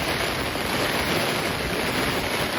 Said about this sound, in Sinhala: පාලමට දෙපැත්තෙන් අංග සම්පූර්ණයෙන්ම මහවැලි ගඟ උතුරලා යනවා